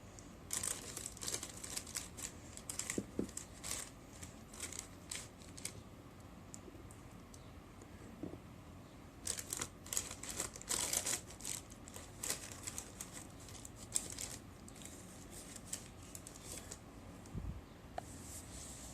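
Baking paper crinkling and crumpling in repeated bursts as it is arranged inside a pot, close by, with soft rustles and handling noises between crisp crackles; no talking.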